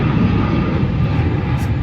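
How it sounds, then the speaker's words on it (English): An airplane flies overhead with a loud, steady, broadband engine roar that fills the whole moment without letup. "It's an airplane."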